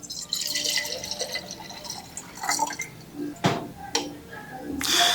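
Water poured into a cup sitting on a kitchen scale while brewing coffee, with trickling and splashing pours in short bursts alongside a voice talking.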